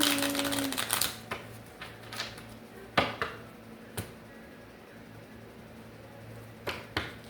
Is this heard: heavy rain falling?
no